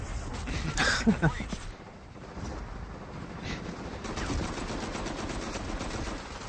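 Rapid first-person shooter gunfire in a video game, bursts of automatic shots crackling at moderate loudness with a windy rushing background, while someone talks over parts of it.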